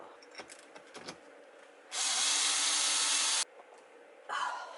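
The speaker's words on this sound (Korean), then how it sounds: "여기 긴 부위에 긴 나사, 요 긴 나사로 고정을 시켜주면 됩니다" A power screwdriver whirs as it drives a long screw into a push-pull interior door handle, first in a steady burst of about a second and a half, then in a shorter second spin, with small tapping and handling noises in between.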